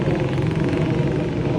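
An airplane passing nearby makes a steady, moderately loud engine drone that holds an even rumbling hum throughout.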